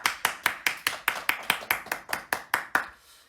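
A steady run of single handclaps, about a dozen evenly spaced and fairly faint, during a Korean online Sunday church service celebrating members' birthdays, fading at the end.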